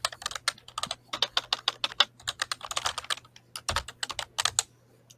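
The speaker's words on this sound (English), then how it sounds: "Just typing down notes." Rapid typing of notes on a computer keyboard, close up, with quick bursts of crisp key clicks, brief pauses between runs and a low steady hum underneath.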